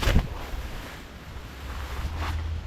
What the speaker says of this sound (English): My only concern is it's a bit breezy